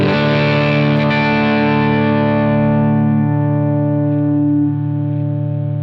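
A sustained, distorted electric guitar chord from a Line 6 Helix rings out loudly, then swells into a steady natural amp feedback tone that holds and shifts toward a higher harmonic.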